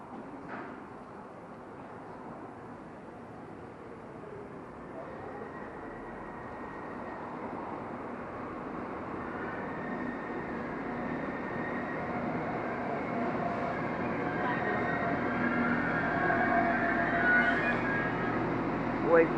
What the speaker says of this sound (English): train now coming back is the same 195 that pulled out, going to Lime Street